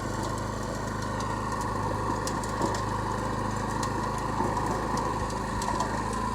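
A Honda rototiller running steadily in second gear while laying sod, its small engine holding an even, loud drone throughout with faint clicks and rattles over the top.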